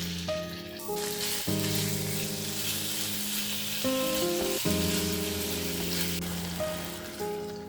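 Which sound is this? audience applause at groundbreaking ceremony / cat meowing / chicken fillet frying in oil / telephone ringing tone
chicken fillet frying in oil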